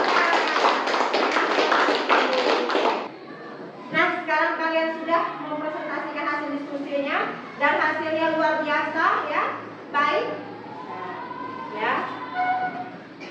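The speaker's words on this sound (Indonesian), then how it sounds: "sekarang tepuk tangan untuk kelompok 4" A classroom of pupils clapping together for group 4, a dense burst of applause for about three seconds that stops abruptly, followed by a teacher and children talking.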